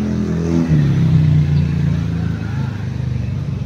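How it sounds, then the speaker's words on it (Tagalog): A vehicle engine idling smoothly and quietly, a steady low hum with a faint rev rise early on, continuing steadily throughout. "Maandar ang makina niya, maandar."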